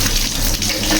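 Water gushes steadily from a tap into a container being filled, a loud continuous broadband rush heard close up with no talk over it.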